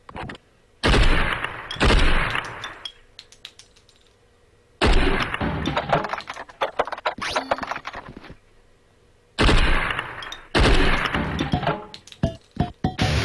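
Video game gunfire rakes a machine in three loud clattering bursts separated by short pauses, with metallic clinks and impacts mixed into each volley.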